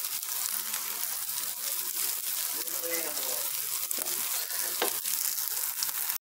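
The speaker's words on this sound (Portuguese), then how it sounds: "E vou pôr lá agora junto com o alho. Ó, já tá quase no ponto, calabresa de fritinha." Calabresa sausage fries with garlic in a pan for homemade farofa, a continuous crackling sizzle with occasional stirring clatter, fairly quiet and steady.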